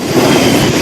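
Train running along the rails near Nidadavolu, on the Rajahmundry to Bhimavaram line, heard as a steady close rumble of wheels for under a second, with no pauses.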